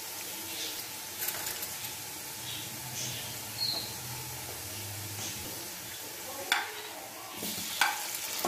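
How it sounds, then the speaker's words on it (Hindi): Onions browning in oil for a restaurant-style chicken pulao, with a soft continuous sizzle and occasional scraping stirs, fairly quiet and steady with no talking. "ये देखें, हमारा प्याज अच्छी तरह आस्ता आस्ता ब्राउन होना शुरू हो गया है।"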